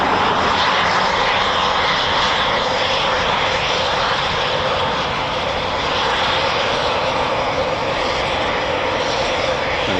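Eurofighter Typhoon FGR4 jet at an RAF station, heard as a loud continuous engine roar and whine that holds steady while it taxis, with no voices over it.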